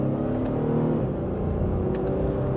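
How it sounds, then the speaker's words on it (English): 2026 Honda Passport SUV accelerating in sport mode in second gear, with a steady, close engine hum and rising drone heard from inside the cabin. "We have a good bit of power for a minor acceleration there"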